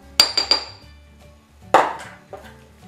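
Cloves are pounded with a pestle in a mortar, making a quick cluster of three sharp, ringing knocks followed by two more separated strikes, close and clear with no talk.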